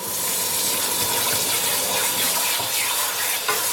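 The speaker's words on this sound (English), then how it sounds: "So what I'm going to do now is just quench this metal, cool it right down" Hot metal from a blacksmith's forge quenched in water, giving a loud, steady hissing gush of boiling and bubbling that runs unbroken from start to finish, with no voices.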